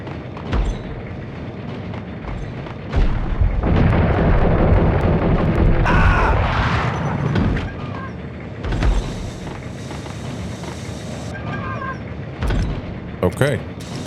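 Grenade blasts and gunfire in the 2001 PS2 shooter Max Payne: a sustained loud burst of explosive rumble and crackle in the middle, with scattered sharper pops before and after and someone talking over parts of it.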